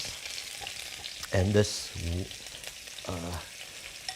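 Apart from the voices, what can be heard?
garlic and onions frying in a hot wok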